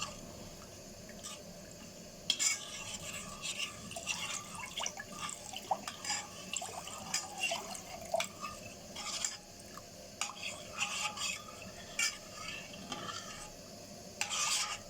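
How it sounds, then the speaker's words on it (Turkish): Water trickles into homemade mint tarhana soup while it is stirred steadily, with a close, wet scraping and dripping that repeats in uneven strokes, without speech. "yavaş yavaş ilave ederek karıştırarak suyunu ilave ediyor"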